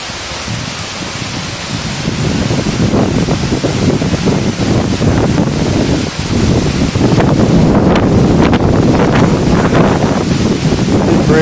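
Strong, gusty wind at the Morialta Falls lookout roars and buffets the microphone, loud and continuous, swelling after the first couple of seconds with brief dips between gusts.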